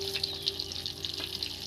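Homemade panch phoron whole spices frying in hot oil while cabbage ghonto is being cooked, a steady close sizzle with small crackling pops throughout.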